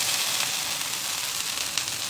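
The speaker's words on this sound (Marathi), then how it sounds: "आणि आपल्याला आता थालीपीठ टाकून घ्यायचं." Thalipeeth sizzles on a hot oiled tawa in a steady, bright, close hiss with faint crackles, heard alone.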